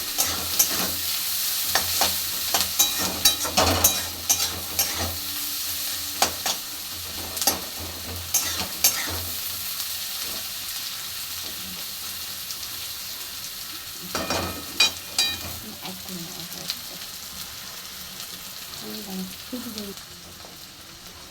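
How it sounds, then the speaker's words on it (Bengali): Sliced onions sizzle steadily in hot oil for a small-fish curry, with repeated scraping stirs of a spatula against the pan cutting through the constant crackle. "পেঁয়াজটা ভাজা ভাজা হয়ে যাবে যখন, হালকা বাদামি বাদামি"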